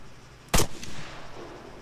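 A single sharp rifle shot is fired downrange in the Arma 3 video game, a loud close crack followed by a brief fading echo, with no talk.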